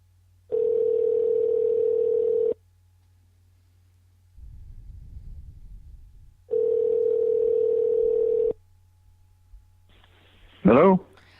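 Skype voice call ringing tone, two long steady rings separated by silence, with a faint rustle between them and a brief voice at the end as someone answers.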